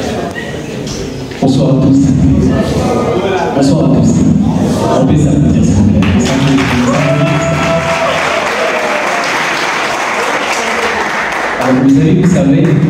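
Audience applause at a live arts broadcast, a steady, loud clapping that swells after a spoken greeting and carries on with talk mixed in at the start and near the end.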